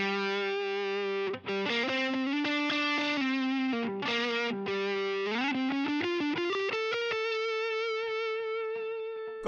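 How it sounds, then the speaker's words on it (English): Electric guitar lead through a Fulltone OCD overdrive pedal: crunchy sustained notes, quick runs and bends, ending on a long held note, played solo without talking. "all I'm going to be using is my full tone OCD pedal"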